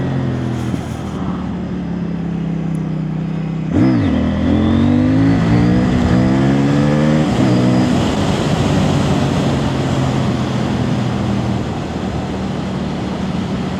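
A 2024 CFMOTO 800NK Sport motorcycle engine accelerates while being ridden. It hums steadily, then rises and climbs in pitch through a throttle run, loud against constant wind rush.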